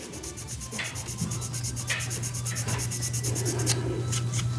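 Steady, close scratchy rubbing of fine sandpaper worked slowly back and forth over a shrinkage sink mark on a plastic model kit part, continuous and unbroken with no talking.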